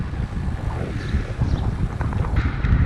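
Wind buffets the microphone while cycling outdoors in Friesland, a loud, steady rushing roar that never lets up.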